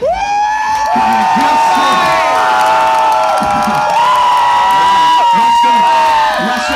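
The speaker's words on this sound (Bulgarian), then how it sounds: "Искам аплодисменти за нашия" A party crowd at a flair show audience game cheers and whoops over loud tonal music, with scattered shouts and a steady roar of voices rising and falling.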